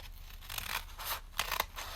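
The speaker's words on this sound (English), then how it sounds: "Scissors." Scissors snip through a stack of folded paper squares for a paper snowflake, several crisp close cuts in an uneven rhythm over a quiet room.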